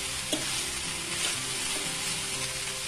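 Green beans sizzle and crackle steadily in a hot pan for a few seconds, with a couple of faint stirring scrapes and no voices.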